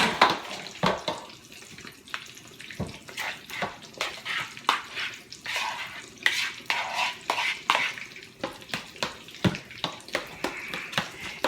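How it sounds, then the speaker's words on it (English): Potatoes tipped into a hot pan sizzle under a run of scraping, clattering knocks as they are moved around, close and busy, with only faint background noise. "Now I will take the potatoes and I will put them in this pan right here."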